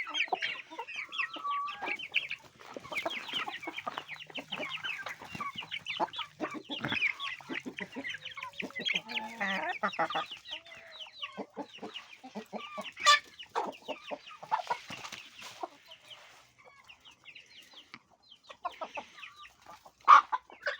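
Chickens cluck and chatter close by in a busy, continuous flock, with occasional sharper squawks rising above the steady murmuring.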